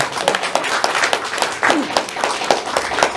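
An audience claps for Nusantara at an Indonesian gathering, a dense patter of hands running steadily throughout at moderate loudness with voices mixed in.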